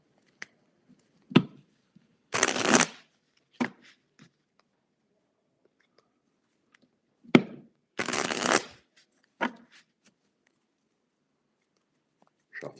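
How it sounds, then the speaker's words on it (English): Tarot cards are riffled in two distinct bursts, each followed by a few light taps and clicks as the deck is squared, with near silence in between and no talk. "Shuffle, shuffle, shuffle."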